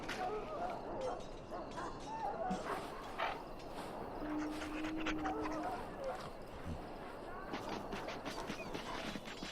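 Dogs bark, yip and whimper in the Dragon Age Origins video game, scattered short calls over a background of voices and game ambience.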